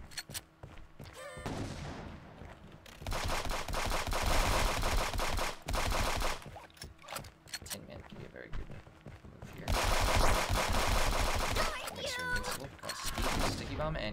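Bursts of gunfire from the cartoon shooter game Friends VS Friends, loud rapid volleys in two long stretches with short gaps, mixed with game effects and some voices.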